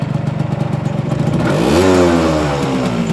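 A Zündapp KS 80 Super motorcycle in original condition clatters at a rough idle, then revs up sharply with a rising engine note that holds loud and close.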